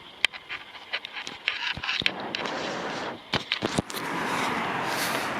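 A dog pants outdoors in quick, rough bursts, mixed with sharp clicks and taps, with steady street noise building toward the end.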